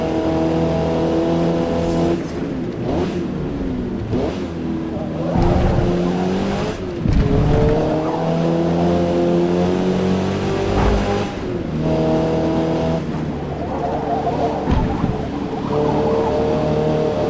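A Mazda MX-5 race car engine in Forza Motorsport at the Eaglerock track, droning loudly and steadily as it revs up and down through gear changes, with brief tyre squeal in the corners.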